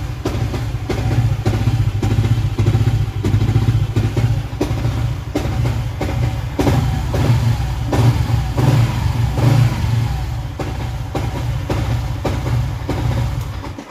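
A modified motorcycle engine revs steadily in a workshop during tuning, a loud, close, continuous throaty drone with repeated throttle blips and no voices over it.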